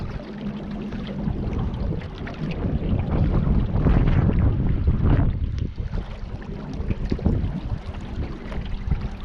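Wind on the Colorado River near Hoover Dam, blowing at the back of a small boat or kayak, rushes and buffets the microphone steadily, with gusts swelling mid-clip and water noise beneath, and no talk is heard.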